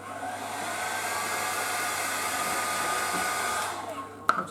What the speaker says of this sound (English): So it's not a heat gun, it's actually a hairdryer.